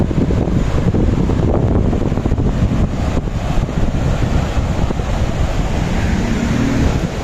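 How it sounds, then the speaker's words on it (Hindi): Water released through a dam spillway at Jatlan Head in Mirpur, Azad Kashmir, heard as a loud, constant roar of rushing water mixed with wind buffeting the microphone, with no talking over it. "वहाँ से पानी छोड़ा गया है, वो देखें। पानी का बहाव चेक करें"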